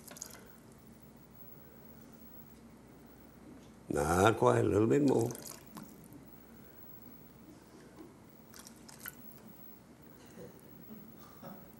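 Water is poured into a pot of rice as a short, splashing rush lasting about a second and a half, with someone talking over it.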